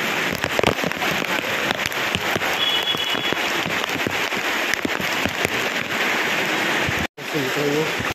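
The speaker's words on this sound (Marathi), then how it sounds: "भरपूर पाऊस चालला आहे" Heavy rain hammers down in a dense, loud patter with splashing drops on a street near a school, and some indistinct voices mixed in near the end.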